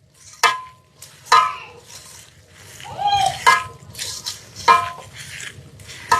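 Hands mixing small fish and aubergine with mustard oil and spices in a bowl, with wet squishing and sharp clicks and knocks against the dish while a person talks nearby.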